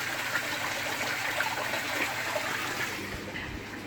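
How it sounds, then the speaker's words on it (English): Garden pond waterfall running steadily outdoors, a continuous broadband splash and gush of falling water that stays constant throughout, with no one speaking. "The waterfall's going to keep going"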